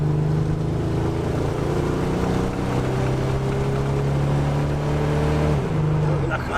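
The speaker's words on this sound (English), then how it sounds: "It is running weird right now. It's missing a cylinder, it sounds like." A Buick Grand National's upsized turbocharged engine, missing a cylinder, drones and revs unevenly, rising and falling in pitch, loud and close under a steady rumble.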